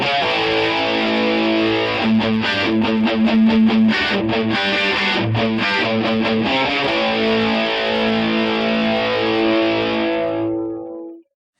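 Electric guitar lick played slowly with heavy distortion, a continuous sustained run of notes ringing for about ten seconds before cutting off abruptly, with no voices.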